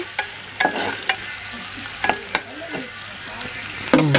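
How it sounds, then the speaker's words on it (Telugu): Chapati noodles with egg frying in a pan and being stirred, a steady sizzle broken by sharp scraping and clinking strokes of the utensil at irregular intervals, close and moderately loud, no talk. "ఇలా వేగేటప్పుడు అట్లా కలబెట్టేసి"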